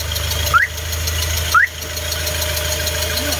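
A Hyundai Starex CRDi diesel engine idles with a steady low rumble after repair, joined by two brief rising squeaks, close and continuous.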